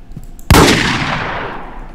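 A single loud Desert Eagle pistol shot rings out in a mobile shooter game, a sharp blast followed by a long, fading echoing tail, with a faint click just before.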